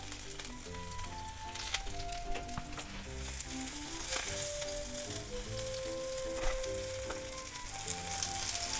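A salmon fillet sizzles steadily in a frying pan during Japanese home cooking of teriyaki salmon, a continuous close crackle with light clinks of utensils and faint tonal kitchen sounds behind, no talking.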